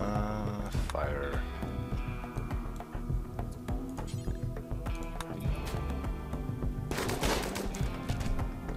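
Gunfire in Rimworld Alpha 16, small-arms shots cracking in sharp irregular bursts over a steady music bed, with a dense flurry of rapid shots near the end.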